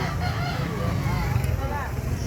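Chickens at a public market in Carbon cluck and call close by under a busy, continuous crowd murmur, with people talking throughout.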